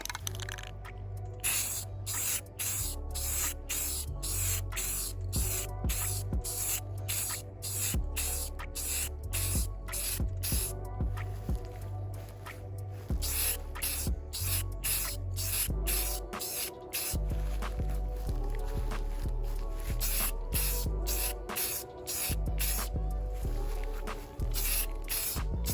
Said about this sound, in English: I'm going to be spray painting mine with this rustic orange in a satin finish by Rust-Oleum.